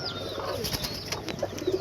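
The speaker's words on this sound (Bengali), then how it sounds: "তো এই হচ্ছে আমার দুটো অস্ট্রেলিয়ান ঘুঘু।" Two Australian doves cooing close by, with soft low coos repeating near the end over a quiet room background and a few faint bird chirps.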